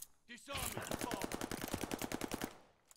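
Rapid automatic gunfire in a shooter video game, a close, loud burst of evenly spaced shots lasting about two seconds after a short lead-in.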